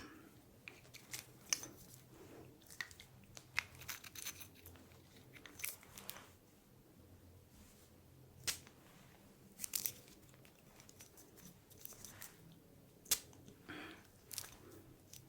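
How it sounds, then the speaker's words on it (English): A grapefruit ginger spray bottle is pumped close up in a hushed room, giving several soft, brief hissing spritzes at irregular intervals amid faint clicks and handling rustles. "So I will do some sprays for you."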